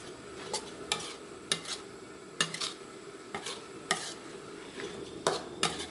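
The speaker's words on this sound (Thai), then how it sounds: "แล้วเราก็ผัดค่ะ ผัดแป๊บเดียวนะคะ ผัดไม่นาน" Liang leaves stir-fried with egg in a pan, seasoned with oyster sauce and sugar, give a quiet sizzle under repeated scraping and clinking of a utensil against the pan in short, irregular bursts.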